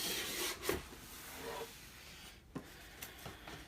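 Cardboard packaging of an 18-volt cordless impact wrench combo kit is opened close up, with quiet rubbing, scraping and a few soft taps.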